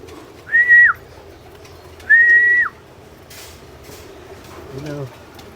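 Racing pigeons in an aviary loft gather on the landing board, with two clear whistling calls and a soft low coo over steady background murmur.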